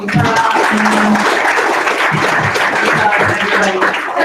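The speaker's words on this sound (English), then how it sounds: "So big hand of applause again for everybody who presented." Applause from an audience for presenters at a team update meeting, a dense, steady wash of clapping lasting several seconds, with a voice briefly audible beneath it.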